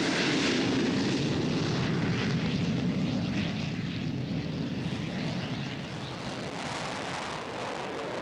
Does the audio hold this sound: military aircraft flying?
yes